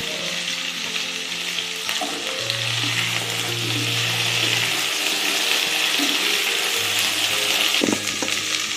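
Cut cauliflower goes into a pan of frying pointed gourd for vegetable khichuri, giving a loud, dense, continuous sizzle heard up close, with a faint low hum in the background and no speech.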